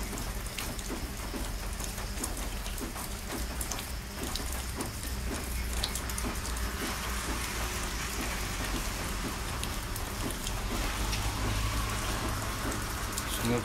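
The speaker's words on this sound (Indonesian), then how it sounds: "Saya rasa satu Malaysia hujan ni." Steady rain falls continuously on surfaces during a Malaysian downpour, a dense even patter at moderate level through the whole stretch, with faint voices in the background.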